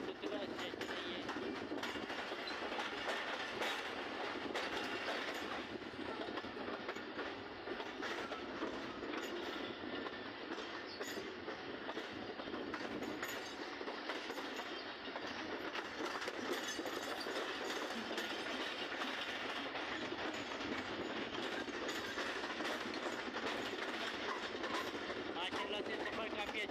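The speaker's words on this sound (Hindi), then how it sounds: "ये पाकिस्तान एक्सप्रेस अपने सफ़र में रवां जमाए।" Pakistan Express passenger train runs on the rails between Karachi and Hyderabad, a continuous rumbling roar with clickety-clack wheel rhythm heard from inside, constant and moderately loud throughout.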